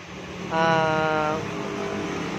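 A Suzuki Raider 150 Fi motorcycle fitted with a Kalkal exhaust pipe and big elbow gives a brief, sharp rev, rising to a loud harmonic blat for about a second before settling back to a steady idle, heard close.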